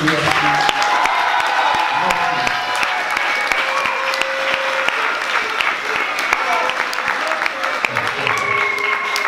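Loud festival-audience applause at the Fest'up 2019 closing ceremony, dense sustained clapping with scattered cheers and whoops, while an amplified voice talks over the crowd throughout.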